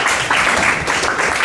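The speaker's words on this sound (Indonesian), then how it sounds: "Tepuk tangan untuk kelompok." A school class applauds a group after its presentation, a brief, loud, dense burst of many hands clapping together.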